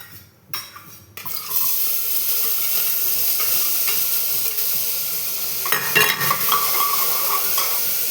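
Ingredients tipped into a hot pan for a home-cooked rice dish, a brief clatter followed by a steady loud sizzle that hisses on continuously, with a few scraping stirs near the end.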